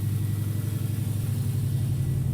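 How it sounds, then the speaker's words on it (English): The 1994 Subaru Legacy Touring wagon's engine runs steadily after its turbo upgrade, a loud, close, continuous low rumble with no talk over it. "Running really good now. New turbos all in there."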